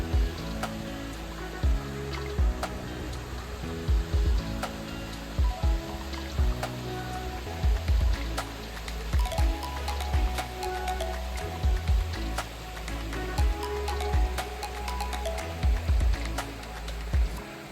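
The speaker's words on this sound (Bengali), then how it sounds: "এভাবে নেমে যাচ্ছে ঝর্ণাগুলো।" Steady rush of waterfall streams from melting snow flowing down near Baisaran, Pahalgam, Kashmir, with scattered splashes and drips, continuous and moderately quiet throughout.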